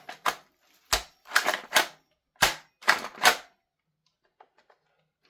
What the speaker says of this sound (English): Can we still put the mag in?